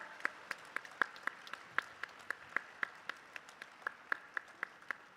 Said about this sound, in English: I think this deserves a bigger round of applause